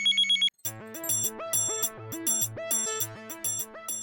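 A mobile phone rings with an incoming call: a short electronic beep, then a bright, looping melodic ringtone that repeats steadily and loud with no voices.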